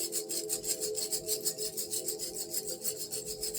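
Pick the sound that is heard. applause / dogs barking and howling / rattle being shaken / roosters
rattle being shaken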